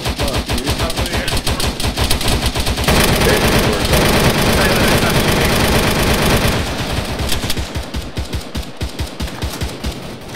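Automatic gunfire during a firefight in ARMA 3, sustained, loud rapid bursts of machine-gun fire that continue nearly unbroken, with a denser stretch in the middle and sharper individual shots toward the end.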